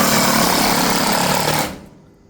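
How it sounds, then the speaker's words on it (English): A power drill drives 25mm screws into an insulated roof receiver channel fixed to fascia. A loud, close, steady whirring drone runs for about a second and a half, then cuts off and winds down. "now I put my 25mm screws in, tacked everything"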